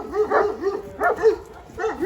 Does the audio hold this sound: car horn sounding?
no